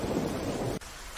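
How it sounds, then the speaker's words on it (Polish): Heavy rain pours steadily in the video game DayZ with a low thunder rumble, loud and dense, then cutting abruptly to a quieter wash of rainfall. "Ale ulewa."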